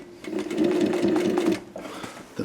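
A sewing machine stitches a BOC pocket onto a skydiving rig, running in a steady fast burst of close, loud needle strokes for about a second and a half, then pausing briefly before starting again.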